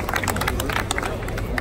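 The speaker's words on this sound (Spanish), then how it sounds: "Aplausos para Bopla y para Luffy" Audience applause and cheering for contestants at a Spanish-language battle rap event, a dense crowd wash of claps with babble mixed in, steady throughout.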